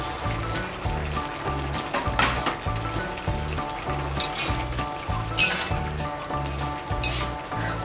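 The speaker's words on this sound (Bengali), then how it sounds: "যে মাছগুলো আমি ভেজে রেখেছিলাম আমুদে মাছ সেগুলো দিয়ে দিলাম" Fried amudi river fish dropped into a pan with onion greens, giving a steady close sizzle and bubbling frying hiss with faint clinks, no voices.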